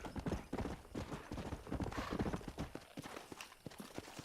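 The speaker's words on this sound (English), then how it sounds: "There's his horse." Horse hooves clip-clopping steadily in the Western video game Red Dead Redemption, a brisk, even rhythm of hoofbeats close by, with a brief whinny and faint background game ambience.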